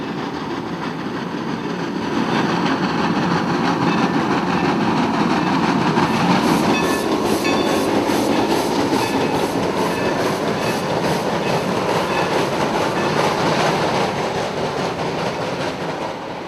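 Shay steam locomotive No. 2 of the Sierra Railroad rolling through Sonora past the old depot site, a steady rumbling train passage with clanking wheels that swells after a couple of seconds and holds loud and close throughout.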